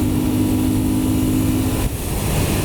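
A Moto Guzzi V7 motorcycle engine runs at full throttle, a loud, steady, close roar with a brief dip toward the end.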